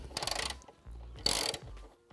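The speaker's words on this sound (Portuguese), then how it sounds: "com o auxílio de uma chave catraca, um alongador curto e uma chave 14 milímetros, nós vamos fazer a quebra do aperto da fixação superior" A ratchet wrench with a short extension and 14 mm socket breaks loose the upper strut mount bolts on a 12th-generation Toyota Corolla, giving two bursts of rapid mechanical clicking separated by low rumbling handling noise.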